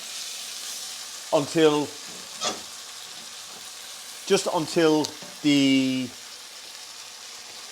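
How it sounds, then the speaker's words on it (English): Plantains frying gently in a pan for a plantain and bean dish, a steady soft sizzle running underneath a person talking in short bursts. "I'm just going to allow those to cook gently, keeping a stir on them"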